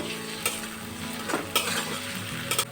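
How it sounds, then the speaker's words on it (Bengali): Grated garlic and onions fry in a pan while a spoon stirs them, producing a moderate sizzle broken by several scraping, clattering stirs, with no voices. "এখন রসুনটা খুব ভালো করে এর মধ্যে ভেজে নেব।"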